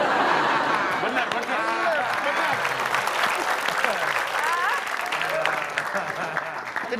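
Studio audience applause on an Indonesian comedy quiz show, steady clapping running throughout with voices talking and some laughter over the top.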